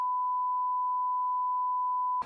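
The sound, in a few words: censor beep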